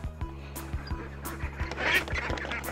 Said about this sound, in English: Now I'm letting the little ducks out.